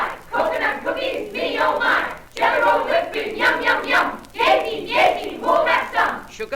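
Hands clapping in rhythmic bursts on a 1940 children's record, set against a chanting group of voices that speak and cheer over the claps in short repeated phrases.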